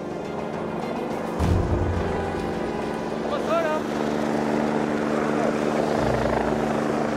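A rescue helicopter hovers in a mountain crevasse near Chamonix, a steady loud rotor thump and engine roar filling the scene with no break, while a voice talks over it.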